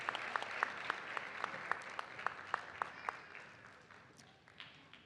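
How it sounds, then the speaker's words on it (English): Audience applause at a graduation ceremony in a theatre, honoring certificate recipients: a steady wash of hand clapping with sharper claps standing out at regular beats, slowly thinning and fading toward the end. "Can we please have another round of applause"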